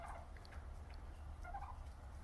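Turkeys gobble inside a barn where they were brought in for winter, faint bursts of warbling calls over a low steady rumble, heard at some distance with no talk.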